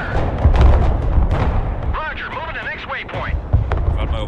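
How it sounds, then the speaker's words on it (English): Artillery firing in the video game Broken Arrow, deep booming blasts and rumble layered with battle noise and radio-like chatter, steady and dense throughout under game sounds. "firing artillery here"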